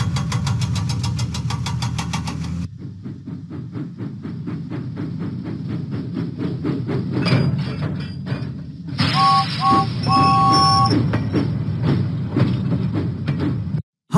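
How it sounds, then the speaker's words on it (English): A cartoon steam train chugs steadily along the tracks in a children's railway story, a continuous rhythmic engine rumble with brief high whistle-like tones partway through. "Huffing and puffing, James set out for Farmer McCall's farm"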